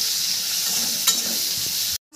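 Soaked dried fish frying in a pan, a loud continuous close sizzle with a brief clatter midway, cutting off abruptly near the end, no talk.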